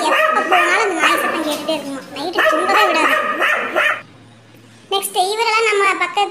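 Street dogs in a neighbourhood bark loudly and repeatedly in close, harmonic bursts, pausing briefly before another volley.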